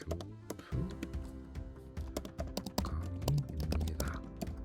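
Quick, uneven keystrokes tapped on a computer keyboard while typing Korean text, with sharp clicks and bursts over a low background hum and some faint room sound.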